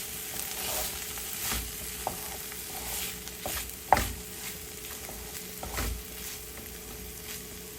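Tindora (ivy gourd) frying in a pan, stirred with soft scraping strokes over a gentle, steady sizzle, with a few sharper utensil knocks against the pan.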